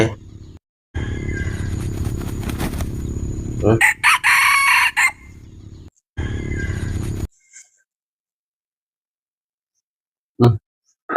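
A rooster crows loudly nearby in a long, rising call, with hens clucking around it and a few short bird calls afterwards.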